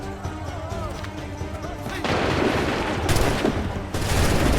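Musket volleys crack out in Assassin's Creed 3, a dense burst of gunfire rising into a loud, sustained fusillade of overlapping shots, with a voice briefly heard beforehand.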